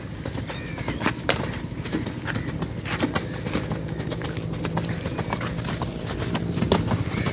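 Horse hooves clip-clop at a trot around a riding academy, a steady close rhythm of hoof beats with faint birds and occasional voices of riding instruction in the background.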